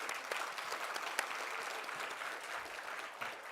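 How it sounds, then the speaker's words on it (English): Guests at a World Blood Donor Day ceremony at the Embassy of India applaud the performers, a short burst of dense, steady clapping from a seated audience, moderately distant and fairly quiet. "let's give them a huge round of applause."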